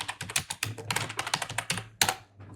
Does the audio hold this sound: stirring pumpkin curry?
no